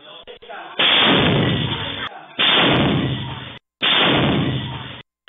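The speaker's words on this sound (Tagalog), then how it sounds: "Ayon sa ilang residente, granada ang sumabog." Three loud, booming blasts from a grenade exploding on a city street in Mandaluyong, each a heavy burst that decays slowly, with brief gaps of near silence between them.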